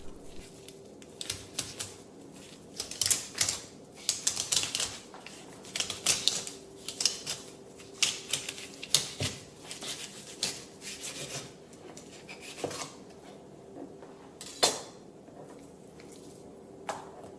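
A special knife fillets salmon for sushi, cutting just below the spine: repeated close, scratchy scraping strokes along the bone, in uneven bursts with short gaps, fairly quiet, with no speech.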